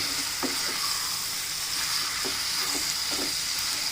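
Chicken gravy with tomatoes sizzles steadily over a high flame in a pan, with a few soft scraping strokes of a spoon stirring it, a constant hissing bed and no voices.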